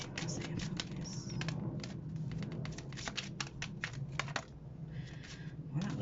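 Tarot cards being shuffled by hand, a close, brisk stream of papery flicks and riffling taps in uneven bursts over a low background hum.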